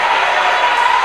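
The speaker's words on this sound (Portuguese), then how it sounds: "Pode aplaudir, abrir a boca e dar glória a Deus." A church congregation applauds in a steady wash of clapping, with faint crowd murmur mixed in and no distinct voices.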